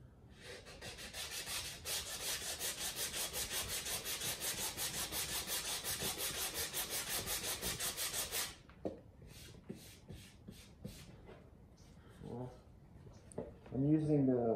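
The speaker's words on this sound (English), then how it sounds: "I'm using the sanding block for the flat surfaces" Rhythmic back-and-forth strokes of a 220-grit sanding block rub the wooden neck of a DIY Les Paul guitar, steady and close for about eight seconds, then give way to scattered handling noises and a voice near the end.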